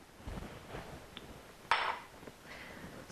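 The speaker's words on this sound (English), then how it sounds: "Stir that around" Dry gingerbread muffin ingredients, including whey protein powder, being stirred in a bowl, heard as soft scraping with light clinks of a utensil against the bowl and one sharper metallic knock.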